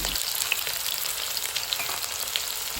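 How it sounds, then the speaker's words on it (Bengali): Chopped onions frying in hot oil after chillies were crisped in it, producing a continuous close hissing sizzle with occasional small pops and crackles, no talking. "এই তেলের মধ্যে দিয়ে দিচ্ছি কেটে রাখা পেঁয়াজ কুচি"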